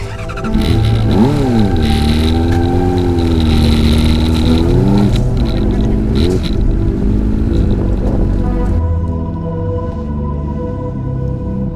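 A big motorcycle engine is started and revved in a loud close burst, its pitch rising and falling in waves before settling into a lower idle rumble, with no clear talk.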